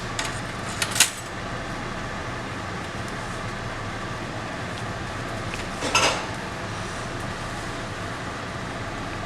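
Metal measuring spoons, tablespoon down to quarter teaspoon, are handled in a classroom and clink twice in brief bright jingles several seconds apart, each over a steady background hum.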